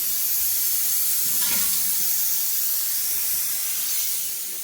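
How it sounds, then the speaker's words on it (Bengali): Steady broadband hiss from a pressure cooker boiling potatoes in a home kitchen, continuous and fairly loud throughout, with a brief brighter puff near the middle and no voices. "প্রেসারে বসিয়ে দিয়েছি আলু সিদ্ধ করতে"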